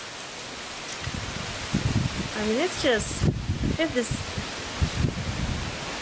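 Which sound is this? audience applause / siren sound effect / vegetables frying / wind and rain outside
wind and rain outside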